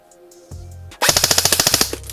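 Arcturus C.A.T. airsoft rifle firing on full auto, a fast even burst of about fourteen sharp cracks after a short mechanical whir, loud and close with no talk.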